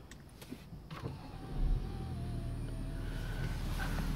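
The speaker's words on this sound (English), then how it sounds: "and if I switch the car on," An Audi A7 3.0 TDI diesel is switched on, with faint electric clicks and whirs followed by a low engine hum that settles into a steady, quiet idle.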